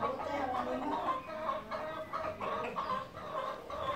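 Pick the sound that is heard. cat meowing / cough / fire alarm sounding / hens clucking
hens clucking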